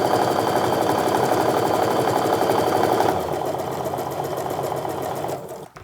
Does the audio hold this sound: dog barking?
no